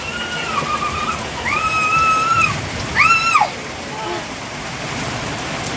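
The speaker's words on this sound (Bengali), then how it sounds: "সেই মুহূর্তেও কিন্তু বৃষ্টি হচ্ছে" A steady wash of falling rain hisses throughout while high-pitched voices call out briefly over it.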